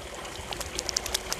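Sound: water flowing in a garden waterfall

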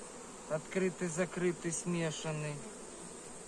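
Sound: honeybee swarm buzzing while being moved into a hive

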